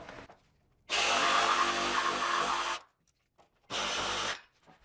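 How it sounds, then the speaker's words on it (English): A jigsaw cuts a notch in a wooden stair skirt board, running in two loud, steady bursts, a long one of nearly two seconds and then a shorter one, with quiet gaps and no talking. "I'll just go ahead and finish this with the jigsaw."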